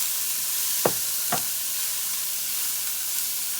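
Peas and yellow onions fry in a pan for shrimp fried rice, a steady bright hiss of sizzling with two short scraping knocks early on.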